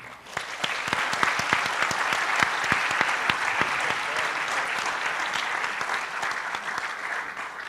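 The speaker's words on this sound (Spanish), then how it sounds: "quisiera por favor pedir un fuerte voto de aplauso." An audience at a mining-industry talk applauds a panel with steady, dense clapping that holds throughout and tapers slightly toward the end, with no speech over it.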